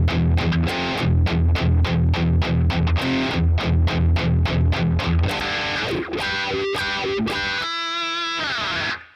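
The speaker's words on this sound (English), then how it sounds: "I'm basically just pushing the wah down each time I'm playing a note." An electric guitar plays a lead line with a wah pedal pushed on each note, over a loud distorted rhythmic backing of steady repeated hits, then shifting to sustained wavering lead notes.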